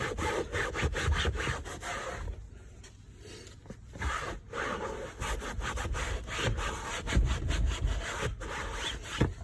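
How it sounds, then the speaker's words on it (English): Someone wipes a stained car seat with a clean microfiber cloth, making repeated rough rubbing and scraping strokes close by in an irregular back-and-forth rhythm. "I'm going to grab a clean microfiber and wipe over that entire surface."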